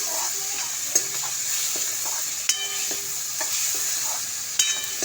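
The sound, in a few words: onions and tomatoes being stirred and fried in pan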